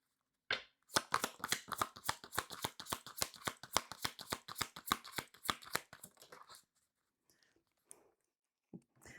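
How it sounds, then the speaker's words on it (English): Cards from the Creatrix oracle deck are shuffled close up in a quick, even run of crisp riffling snaps for several seconds, then fall quiet with a few faint soft handling sounds. "I'm going to get one card from the Creatrix deck."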